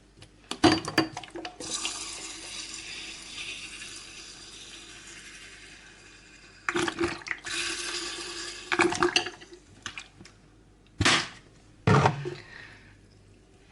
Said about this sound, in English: And then we just top this up with water.